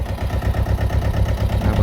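A tractor engine idles steadily nearby while mango saplings are loaded, a low throbbing rumble with a regular pulse and no voices.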